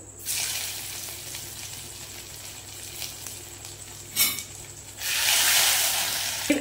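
Ginger paste sautéed in a pan sizzles steadily and close for several seconds, with a brief stir clatter before it swells into a louder hiss near the end.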